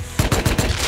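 Rapid gunshots in the survival video game Rust, about five sharp loud reports fired in an even, quick rhythm, close and alone without talk.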